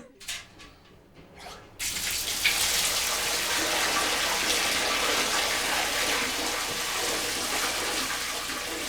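Water gushes steadily from a tap into a bathtub in an old-fashioned 1900-style house, a loud continuous rush that starts abruptly after a few quiet seconds with faint knocks.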